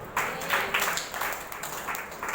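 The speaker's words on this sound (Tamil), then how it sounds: "கைத்தட்டு." An audience at a Diwali special church meeting clapping, a short, moderately loud burst of scattered applause with uneven rhythm lasting a couple of seconds.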